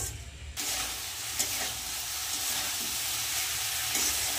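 Vegetables and washed daliya frying in a pan while being stirred, a steady close sizzle with intermittent scraping, no voices.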